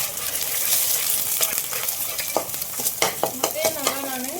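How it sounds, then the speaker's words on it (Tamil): Egg sizzles as it is stir-fried in a pan for chicken noodles, with a steady hiss broken by repeated close metallic spatula scrapes and taps. "முட்டையை நல்லா நான் இப்படி வதக்கிக்கிறேன்"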